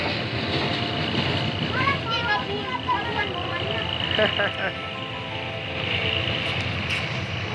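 A passenger train runs on rails at a station in Thailand with a steady rumbling roll and faint clatter, while children's voices chatter over it close by.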